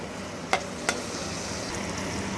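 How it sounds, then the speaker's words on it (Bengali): Fish masala and vegetables stir-fry in oil with a steady, even sizzle, broken by two brief sharp scrapes of the spoon against the pan, and nobody speaks. "সবজিগুলোর সঙ্গে ভালো করে মিশিয়ে একটু কষিয়ে নেব যতক্ষণ না তেল ছাড়ছে ততক্ষণ কষিয়ে নেব"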